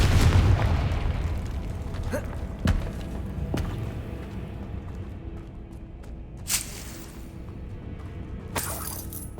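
Confringo spell explosions in the PS5 game Hogwarts Legacy: a heavy booming blast opens, followed by several sharp crackling bursts and shattering impacts over a loud rumbling bed.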